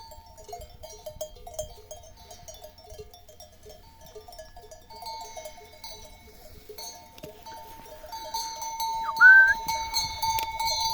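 Sheep, lambs and goats bleating at a distance while cowbells clink and jingle steadily, with the bells growing louder and busier toward the end.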